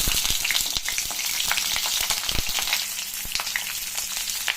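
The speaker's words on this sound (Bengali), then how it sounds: "আমি প্রথমে কড়াইতে তেল দিয়ে পটলগুলো ভেজে নেব" Peeled, slit pointed gourd (potol) fries in oil in a wok, a constant bright sizzle with crackling pops and occasional stirring.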